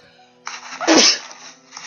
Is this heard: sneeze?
yes